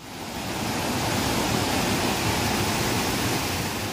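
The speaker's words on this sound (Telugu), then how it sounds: "అసలు వాటర్ ఎంత ఫోర్స్గా వెళ్తున్నాయో ఒకసారి ఆ వాటర్ సౌండ్ వినండి" Water rushes forcefully through sluice pipes near Bamanbudo waterfall in Goa, a loud, steady broadband roar that swells in over the first half-second and then holds constant and close throughout.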